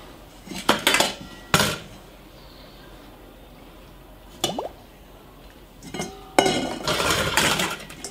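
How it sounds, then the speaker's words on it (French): Glass jars of citrus jam are lifted out of a Cookeo multicooker, giving a few sharp clinks and knocks of glass against metal, separated by quiet pauses, with a clattering burst near the end. "on va retirer les pots, comme c'est indiqué"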